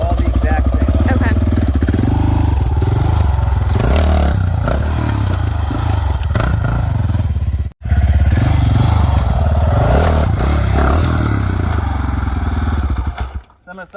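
A dirt bike engine runs loud and close, revving and labouring with clatter and scraping as it rides over a log, with a brief cut before the engine carries on.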